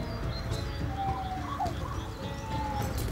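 In the video game Castle of Heart, a bird perched up high coos softly and faintly over a constant background of game ambience.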